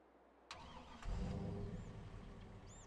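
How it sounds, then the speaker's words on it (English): A pickup truck in Farming Simulator 22 starts with a sharp click, then its engine rumbles into a steady, moderately loud idle and begins to pull away, with faint game sounds above it. "We're going to purchase a truck and do a quick little drive through here, a little drive around."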